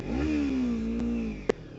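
A Kawasaki Ninja 300 sport motorcycle holds a steady, throaty exhaust note with a slight rise in revs, fairly close, ending with a brief sharp click.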